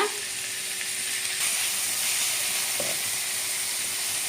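Chopped capsicum and onion frying in oil with spluttered cumin for pav bhaji, making a steady close hiss and sizzle with a faint scrape partway through.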